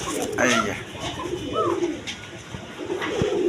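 A pair of blue pigeons at a pigeon sale coo nearby in low, rolling calls, with background voices and scattered sounds of movement around them.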